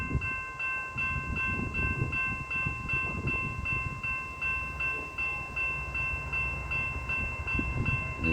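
An Australian freight train passes close by, a steady low rumble of wagons with rhythmic clicking and sustained tonal squeal or hum layered above, continuous and fairly loud throughout.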